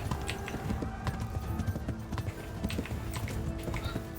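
Galloping horse hooves in the video game Kingdom Come: Deliverance, a steady rapid clip-clop rhythm running throughout at moderate loudness over a dense game soundscape.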